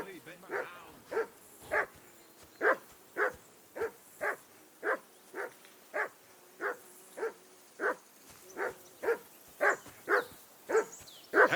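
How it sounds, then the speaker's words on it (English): A dog in a medieval video game barks in a steady, evenly spaced series of sharp yaps, about two per second, moderately loud and unbroken, with faint background ambience. "Whistle at that mutt of yours to stop barking!"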